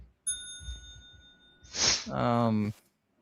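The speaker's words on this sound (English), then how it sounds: "you could ring the bell for that" A single clear bell ding rings out and decays, followed by a brief vocal shout that overlaps the fading tone.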